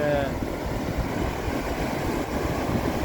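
Cold wind blows steadily outdoors, a loud, continuous rumbling roar buffeting the microphone with no pauses, plus a faint brief tone at the start.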